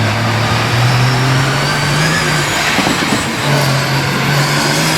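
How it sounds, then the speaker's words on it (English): A Ram-bodied monster truck with a Cummins diesel engine working hard at a monster truck event in Little Valley, New York, a loud steady engine drone with rising and falling pitch. "The big Ram body Cummins diesel engine going to work."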